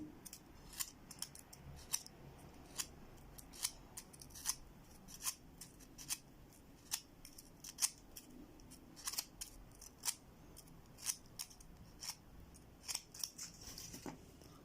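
Nail clippers are sharpened by drawing their cutting edge in one direction across sandpaper, producing a steady series of short, scratchy rasping strokes roughly once a second, close and alone.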